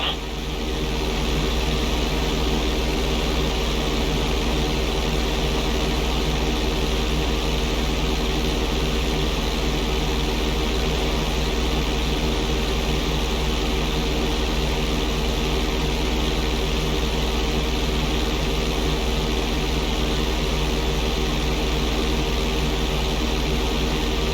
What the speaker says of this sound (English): Okay, roll the plane upside down.